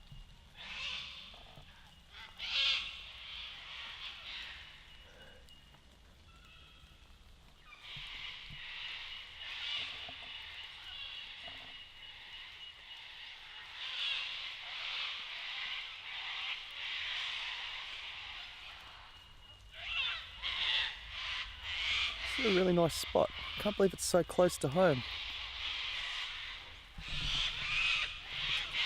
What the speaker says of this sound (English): the cockies are calling everyone home